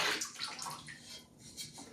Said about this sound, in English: Then you just pour it back into a little bowl.